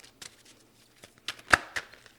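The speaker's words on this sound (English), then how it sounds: "shuffle this one." A deck of tarot cards being shuffled by hand: soft papery riffles and slaps in an irregular sequence of quick bursts, quiet and close, ending with a sharper snap.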